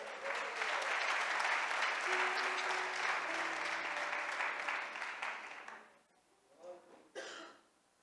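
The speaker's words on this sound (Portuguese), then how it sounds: "Você pode aplaudir o Senhor?" A church congregation at an apostolic service applauds in a loud, sustained wash of clapping for several seconds, then tapers off into quiet with a few scattered coughs and throat clearing near the end.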